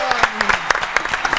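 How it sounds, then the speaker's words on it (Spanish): A studio television audience gives a short, lively burst of clapping after an intimate musical segment, the claps dense and close, with a voice talking over them. "Quiero que le demos un fuerte aplauso."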